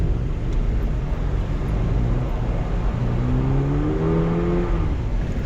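The engine of a 2023 Subaru BRZ revs hard during track drifting practice, climbing in pitch in rising sweeps over constant road and wind noise, close and loud.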